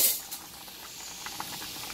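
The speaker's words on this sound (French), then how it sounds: "Entre temps, mes spaghettis sont en train de bouillir." Spaghetti boils in a pot, giving a faint steady steamy hiss with small bubbling pops, heard close and alone.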